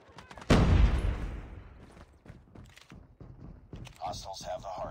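Gunfire in Call of Duty Mobile: one loud, sharp burst of shots near the start fades into scattered clicks and footsteps, with a voice speaking at the end.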